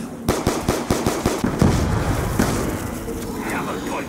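Rapid gunshots from the Executioner weapon in a zombies survival game, about a dozen loud, evenly spaced shots followed by an echoing tail and lighter game noise, with an excited voice talking over it.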